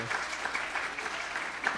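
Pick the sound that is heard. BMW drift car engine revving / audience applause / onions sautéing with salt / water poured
audience applause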